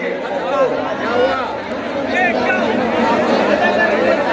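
An audience chats during a sermon, a continuous murmur of overlapping voices and babble filling the space at moderate loudness, with no single speaker standing out.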